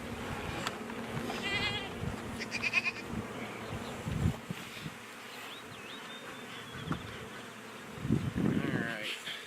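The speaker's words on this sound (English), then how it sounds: "A lot of bees flying around," Honeybees swarm around an open hive during an inspection, a steady buzzing drone with louder passes of individual bees near the microphone, while a person talks quietly in places.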